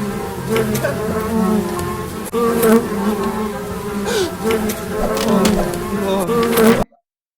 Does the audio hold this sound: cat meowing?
no